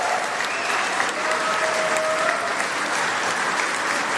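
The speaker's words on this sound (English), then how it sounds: "Please, friends, another round of applause for our exceptionally talented musical guests" Loud, sustained applause from a large audience at an awards show, dense clapping that continues evenly throughout with a faint cheer or two.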